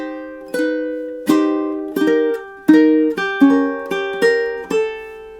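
Plucked ukulele notes and chords from measures 7 and 8 of a song, strummed in a steady, unhurried rhythm, about eight distinct attacks ringing out clearly with no voices.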